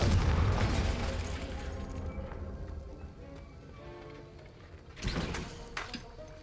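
In Hogwarts Legacy, a Confringo spell bursts with a sharp explosive pop and rumble at the start, then fades; a second burst booms a few seconds later.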